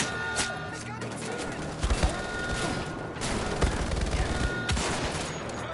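A bolt action rifle fires in Wolfenstein: The Old Blood, with sharp cracks and booms over a dense, noisy battle backdrop, mid-loud throughout.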